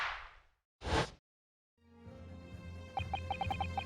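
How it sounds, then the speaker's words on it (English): A firecracker from The Great Ace Attorney 2 pops once as a sharp, loud burst much like a gunshot, preceded by a hissing crackle and followed by game music with a tinkling melody. "The Venus Special that you sell for 600 pennies sounds like this."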